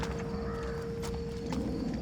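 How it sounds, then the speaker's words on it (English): Horse hooves clip-clop at a steady walking pace in the stealth video game Thief, moderately close over a constant low ambient hum and a faint steady tone. "The sound of horse hooves."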